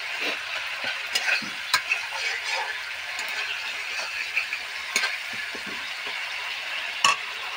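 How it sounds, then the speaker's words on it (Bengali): Masala spices sizzle steadily as they are fried and stirred in a pan for a soybean and egg curry, with a constant crackle broken by sharp scraping clicks of the spoon. "মশলাটা ভালো করে কষিয়ে নিই।"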